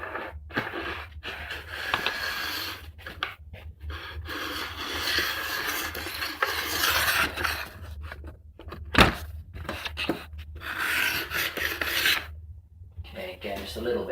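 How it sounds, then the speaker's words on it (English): Hand file drawn along the metal edge of a ski in a file guide set to a half-degree base bevel, producing repeated raspy scraping strokes with short pauses between passes, close and fairly loud. "I need to move the file around so I can work the other side."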